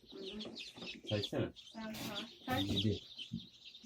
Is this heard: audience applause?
no